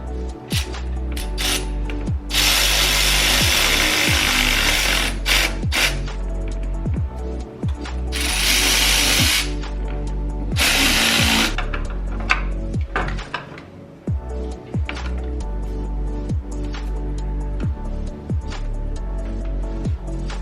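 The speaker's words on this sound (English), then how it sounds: "Now you're going to want to go and tighten down your clamps." Ratcheting clicks from tightening hose clamps during a K&N drop-in air filter install on a Mercedes CLS 550, a steady series of close mechanical ticks with bursts of louder metallic rattle throughout.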